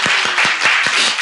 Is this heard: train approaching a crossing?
no